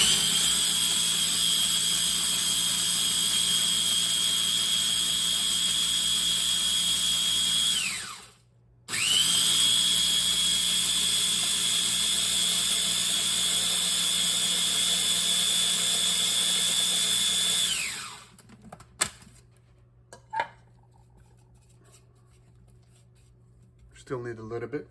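An electric grinder whirs at high pitch as spices are ground for Algerian-style merguez sausage. Two loud, sustained runs of about eight seconds each are separated by a brief pause, and then the grinder winds down, leaving a few light knocks.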